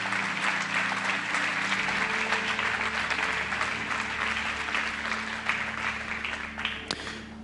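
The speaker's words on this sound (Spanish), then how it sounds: "Y sí, den un aplauso a Dios." Church congregation applauding steadily during a sermon, a dense sustained wash of clapping that holds at an even level for several seconds before easing slightly at the end.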